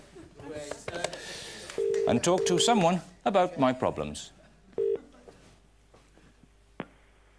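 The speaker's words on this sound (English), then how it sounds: "all I've got to do is phone this number" A telephone number is dialed, with several steady DTMF keypad tones sounding one after another, some held longer, under and between a man's speech.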